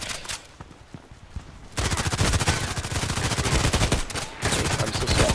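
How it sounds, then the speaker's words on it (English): Dense automatic gunfire from Contract Wars, a quiet stretch of scattered shots giving way to a loud, sustained burst of rapid fire that briefly dips before resuming. "I'm shooting at the wrong guys"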